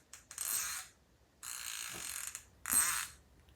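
A 3/8-inch hand ratchet is dragged backward in three separate bursts, each a fast, fine clicking of the pawl heard close up and fairly quiet, with short pauses between.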